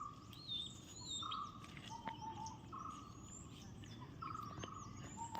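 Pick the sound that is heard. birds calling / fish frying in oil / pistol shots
birds calling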